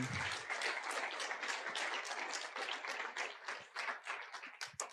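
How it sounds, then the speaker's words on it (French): Dense, steady applause from an audience at a scientific start-up seminar on carbon research, many hands clapping together for the full stretch and fading slightly toward the end, with no talk over it. "on peut t'applaudir encore"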